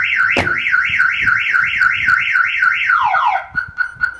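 A Viper aftermarket alarm on a VW T6 California wails with a rapid warbling tone, repeating steadily, then sweeps down and settles into a steady pitch before cutting out into short bursts.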